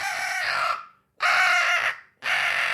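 Three raspy, growling turkey call notes blown with a throat-clearing growl technique, each loud and close, separated by short silences.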